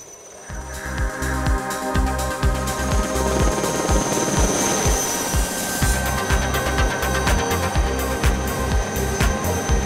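A Lama helicopter's rotor thumps steadily and loudly close by, with a constant engine whine running over the full length of the recording.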